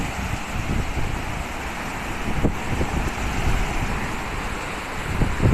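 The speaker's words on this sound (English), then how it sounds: "I'll pop out here for a minute, just before the big gust comes." Gusty wind buffeting the microphone outdoors in New Zealand as a storm approaches, a continuous rough rushing with stronger swells near the middle and end, no voices.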